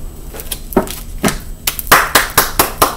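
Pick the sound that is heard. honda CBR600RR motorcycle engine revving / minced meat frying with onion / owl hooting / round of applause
round of applause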